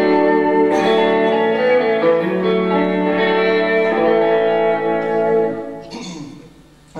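An electric guitar on its neck pickup plays a short, warm, rounded melodic phrase, loud and close with no talking, before fading briefly near the end.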